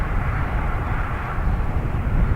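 A Finnair Airbus A320 takes off from Dublin Airport bound for Helsinki, a loud, close, continuous engine roar with rumbling low end that holds steady without pause.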